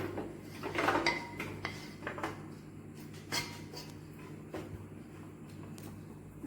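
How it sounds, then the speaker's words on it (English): Light clinks and scrapes of metal and dishware ring out as popcorn is placed into a baking tray in a home kitchen, with a few scattered taps after one busier burst near the start and a quiet background hum. "I'm going to put this into a tray and keep it into the oven."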